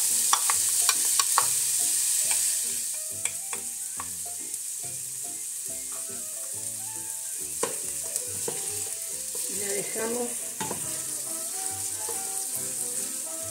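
Chopped onion sizzles in about five tablespoons of hot oil in a pot for a lentil stew, a steady close crackle with occasional spoon scrapes and stirring clatter.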